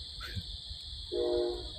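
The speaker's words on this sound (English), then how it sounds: "Serenaded in the background with the train." A train horn sounds in the distance, a single held blast lasting about half a second, over a steady high insect drone and low background rumble.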